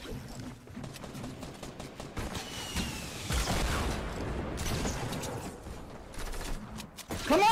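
Video game gunfire, shotgun blasts mixed with a rapid fusillade of shots and mechanical clatter, fairly loud and continuous with bursts rising and falling.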